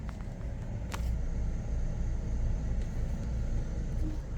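A 2013 Dodge Avenger idling during a transmission relearn after a transmission replacement, a low steady engine rumble close by with a faint click or two, no talking.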